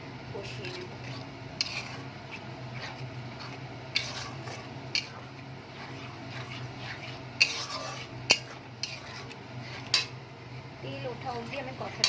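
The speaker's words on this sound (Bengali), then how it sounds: "গুঁড়ো মশলাটা আমি দিয়ে দেবো। এবার ভালো করে কষিয়ে নেব।" Ground spices soaked in water are stirred with garlic in a pan for a mushroom curry, with faint sizzling under the scrape and intermittent sharp clicks of a spoon against the pan, quiet and close.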